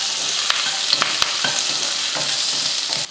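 Onion and green chillies sauté in hot oil with a loud, close, continuous sizzle. A spoon stirs them in several quick scraping strokes, with no voices over it.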